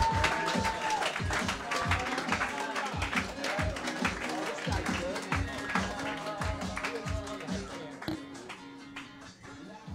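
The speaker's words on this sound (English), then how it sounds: "Clap it up for Erik Bergstrom." An audience at a comedy roast battle claps and cheers to greet a competitor, a crowd's applause with a voice calling out over it.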